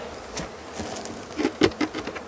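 Faint, intermittent honeybee buzzing around hives being moved, a few short close buzzes rising and fading in quick succession over a quiet background.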